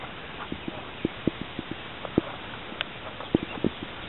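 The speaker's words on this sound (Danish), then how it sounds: "Og så kommer han ind til hest." Horse hooves clip-clop in a steady, uneven walking rhythm of light, sharp knocks, moderately near and fairly quiet over a constant outdoor background hiss.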